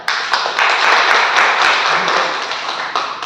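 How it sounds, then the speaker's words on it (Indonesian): A classroom of students claps for their classmates, a dense, loud burst of applause that holds steady for a few seconds, with faint voices mixed in. "Aplaus dulu buat teman-temannya"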